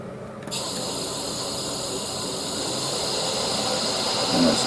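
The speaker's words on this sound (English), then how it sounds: "Just switch the lathe on, I suppose." A wood lathe switches on and runs while a pen is being turned and drilled, a sudden start followed by a steady close motor whine and hiss that holds evenly throughout.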